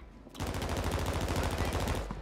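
Rapid automatic gunfire in a shooting video game, a dense sustained burst of shots starting abruptly after a brief quiet moment and continuing loud and steady to the end.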